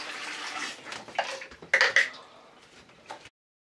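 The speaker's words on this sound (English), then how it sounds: "I'll just wash my hands" Hands being washed under a running tap, a steady splash of water with a few louder bursts and sloshes, close by, stopping abruptly at the end.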